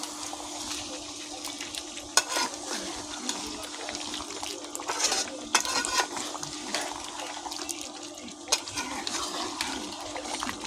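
Broiler chicken curry being stirred in a pan, a steady wet sizzling hiss with occasional sharper scrapes of the spoon against the pan, close and moderately loud with no talking.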